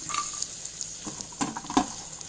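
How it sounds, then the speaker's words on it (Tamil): Grated coconut roasting in butter in a pan, a soft steady sizzle with a few sharper stirring scrapes and clicks near the end, close and moderately quiet with no talking. "தேங்காய் போட்டு நல்லா ரோஸ்ட் ஆகட்டும்."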